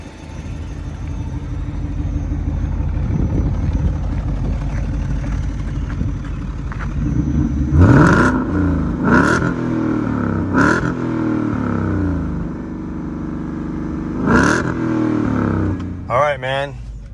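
A Ford Gen4 Coyote crate engine with a Motec computer idles with a deep rumble in a Shelby GTH, then blips and revs several times in sharp bursts while people talk over it.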